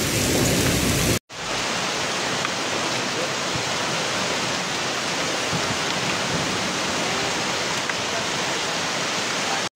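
Heavy hailstorm with rain in Spain, a dense, loud continuous roar of falling ice and water on surfaces that sets in after a brief cut near the start and continues steadily.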